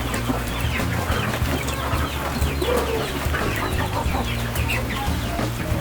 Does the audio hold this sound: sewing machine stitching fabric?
no